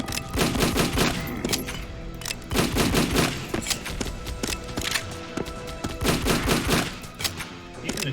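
Enemy chain gunners in the shooter Doombringer fire rapid, loud bursts that come in pulsing clusters across the whole stretch, mixed with impacts and game sounds.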